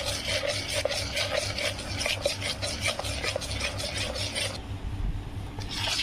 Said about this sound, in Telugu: ఒకే యాంగిల్లో మిక్స్ చేయాలి.